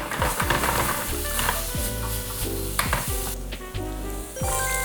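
Minced garlic, carrot and other vegetables for japchae sizzle loudly in a hot pan, close up, under steady frying noise broken by repeated scraping, clinking strokes of a utensil.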